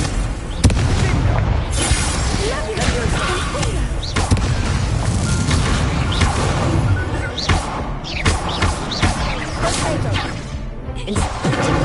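The fire spell Incendio is cast during magic practice at an academy in a video game, producing repeated loud booms, crashes and fiery thuds in a dense, busy sequence.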